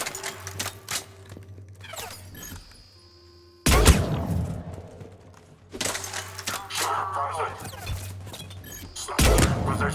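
Gunfire from a Mass Effect 3 firefight, with sharp broadband shots and heavy thuds scattered through the clip, a loud impact near the middle, and a steady low game hum underneath.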